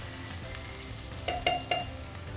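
Onions fry on low heat in hot oil for Nigerian-style fried rice, giving a steady soft sizzle with a few brief louder scrapes from stirring near the end, and no voices.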